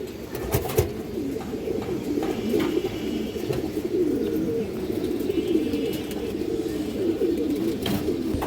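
Silver pigeons coo in soft, steady, overlapping rumbling calls throughout, close by and with no talking.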